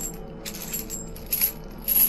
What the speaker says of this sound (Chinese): 锁链的声音。